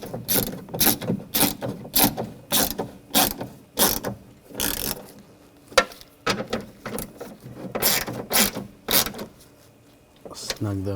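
A ratchet clicks in repeated bursts as it snugs down the nuts on the rear window regulator of a 2007-2013 BMW X5. Each burst is close and crisp, with short pauses between them and a voice speaking at times.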